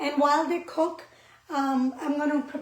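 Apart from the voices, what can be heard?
No everyday noises stand out.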